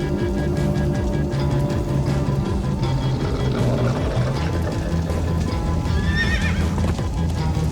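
In the Minecraft: Story Mode video game, Episode 4, horses gallop with a dense, continuous clip-clop of hooves and give loud neighs and whinnies over a constant background rumble.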